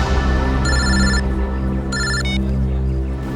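A telephone rings in two electronic bursts over a low steady background hum, with no talking.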